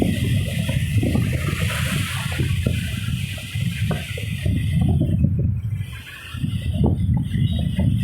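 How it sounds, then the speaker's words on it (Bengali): Large sea waves surge and wash at the Digha river mouth, producing a loud, continuous rushing roar of churning water with swelling and ebbing intensity, close by and without talk. "সেই লেভেলে ঢেউ দিচ্ছে।"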